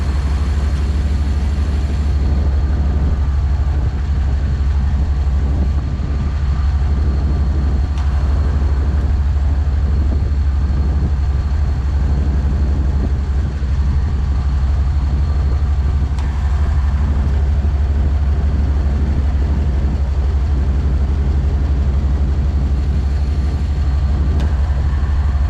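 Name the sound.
car AC compressor cycling on and off with engine idling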